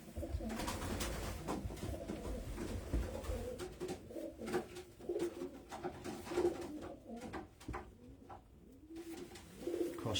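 A racing pigeon hen coos softly and repeatedly at close range, its low, throaty calls rising and falling over a murmur of background noise.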